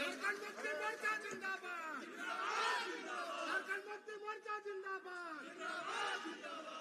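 A large outdoor political rally crowd in Jharkhand shouts and chants together in surging waves, loud cheering voices overlapping with scattered claps throughout.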